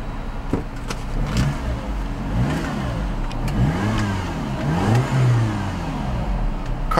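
A 2010 MINI Cooper engine revs up and down repeatedly, rising and falling in pitch, close and loud, with a steady low rumble throughout.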